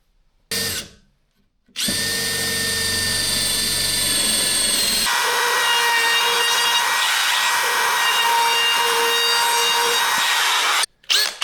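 A power saw cuts an axle access hole in a wooden piece for a DIY sliding table saw bench, a loud continuous whine running for about nine seconds after a brief start, then stopping abruptly.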